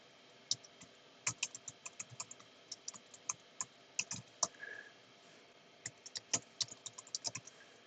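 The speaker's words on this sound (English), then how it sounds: "Type it as I do it." Typing on a computer keyboard, heard up close as irregular runs of sharp, light key clicks with brief pauses between bursts, soft overall.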